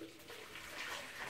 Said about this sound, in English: So I put hot water in a jar.